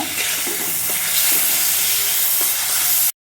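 Shrimp frying in a pan, a loud steady sizzle and hiss close up that runs continuously for about three seconds before cutting off abruptly.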